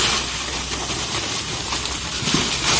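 Rain pours steadily on a California papaya plantation, a dense, even hiss that fills the whole stretch with soft patter and no voices.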